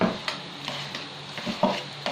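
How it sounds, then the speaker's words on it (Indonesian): Mixer beaters stirring pempek fish dough in a bowl, soft rhythmic thumps and wet scraping repeating several times at close range, with no talk. "Aduk menggunakan kaki mixer."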